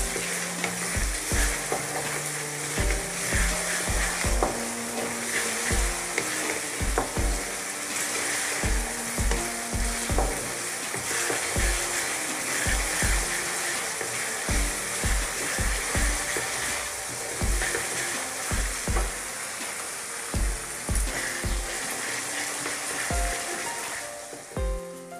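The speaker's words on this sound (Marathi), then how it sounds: "हिरवी मिरची ठेचा किल्ला टाकून घ्यायचा आणि हा पण याच्यातनं छान भाजून घ्यायचा असा" Tomato and crushed green chili roast in a pan with a continuous sizzle and occasional stirring scrapes, set under a melodic backing track.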